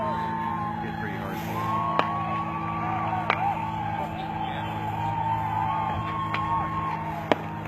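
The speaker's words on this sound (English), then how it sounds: "That you hear is tear gas being fired to land way back in the crowd" Tear gas canisters fired at a protest crowd on a highway, heard as a few sharp distant pops spaced seconds apart over a continuous wash of crowd noise and wailing, siren-like tones.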